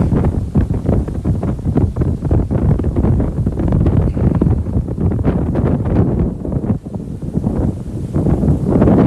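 Strong wind gusting outdoors in a Fort Lauderdale park, loud and continuous, buffeting the microphone with heavy rumbling roar and no voices.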